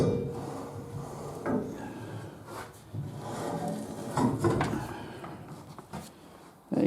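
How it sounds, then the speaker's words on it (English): A standard cement mixer drum without paddles, its ring gear unoiled, is turned round by hand at a small foundry, giving intermittent close scraping, creaking and rubbing with a few knocks. "Just a standard cement mixer with the ring gear."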